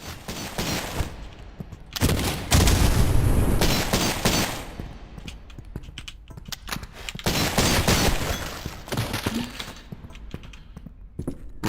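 Gunfire in the retro shooter Cultic, loud bursts of rapid shots and booming blasts that come in dense clusters with short gaps between them, close and harsh, with no talk.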